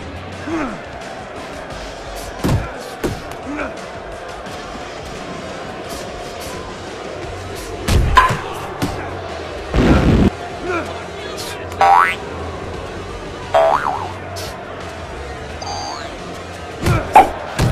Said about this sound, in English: What's up with the punch sounds? Those sound completely fake.